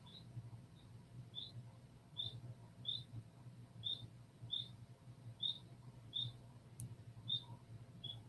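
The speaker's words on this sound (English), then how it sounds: "Do you guys hear the birds?" Small birds chirp outdoors, heard faintly from inside a house: short, bright, evenly spaced tweets repeat roughly every half second over a low steady indoor hum, with no talking.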